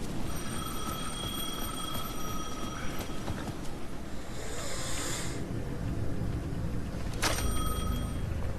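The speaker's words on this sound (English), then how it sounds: "The payphone at the edge of the plaza was ringing again." A payphone at the edge of a plaza rings in the video game Alan Wake 2, sharp electronic trills repeating over a dark ambient music bed, with a rustling swell midway and another ring near the end.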